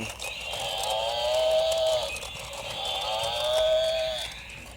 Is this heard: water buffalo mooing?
yes